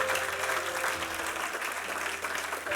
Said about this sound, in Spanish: Dese un aplauso a usted porque usted sigue los mandamientos del Padre.